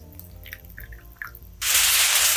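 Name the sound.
liquid poured over braised cabbage wedges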